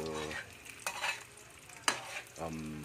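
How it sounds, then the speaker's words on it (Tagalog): Food frying in a pan and stirred, with soft sizzling under a few scraping strokes and one sharp clink of the utensil against the pan, close and fairly quiet. "halu-haluin lang natin hanggang maluto until golden brown"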